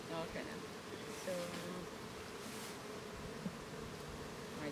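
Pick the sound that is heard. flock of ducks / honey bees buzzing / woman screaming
honey bees buzzing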